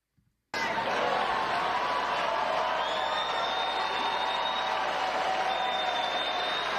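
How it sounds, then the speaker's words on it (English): A large audience at a Michelle Obama speech breaks into sustained applause with scattered cheers, a steady wash of clapping that starts abruptly after a brief silence and carries on evenly throughout. "Look at these idiots applauding."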